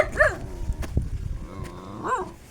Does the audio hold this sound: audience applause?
no